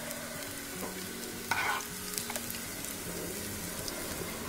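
Egg mixture poured onto an oiled pan for egg dosa, giving a steady close frying sizzle with a brief louder hiss partway through and scraping stir sounds.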